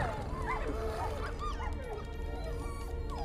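Cosmo, a dog in the game Marvel's Guardians of the Galaxy, gives a string of yips, whimpers and short barks over a dense bed of background game sound.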